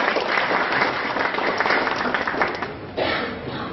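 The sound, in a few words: audience applause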